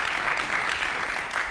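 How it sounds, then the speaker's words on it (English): An audience claps through a public discussion on children's welfare in Australia, a continuous, even patter of hands heard at moderate distance without speech. "I love the clapping."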